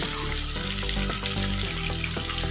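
Whole small onions sauté in a pan for sundakkai kulambu, a village-style turkey berry curry, with a constant watery, bubbling sizzle beneath steady background tones and no speech.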